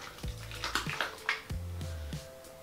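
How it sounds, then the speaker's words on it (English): Hands being rinsed under running water to wash off Lush shower slime, a close splashing and pouring with a few scrubbing surges over about three seconds. "So I'll wash this off my hands as well."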